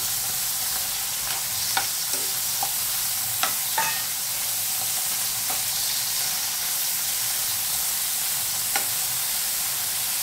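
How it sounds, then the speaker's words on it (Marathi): Paneer cubes for paneer tikka are sautéed in hot oil, giving a steady, even sizzle. A few sharp stirring clicks break through at intervals, with no talking. "तेलात चांगले ते परतून घ्यायचे"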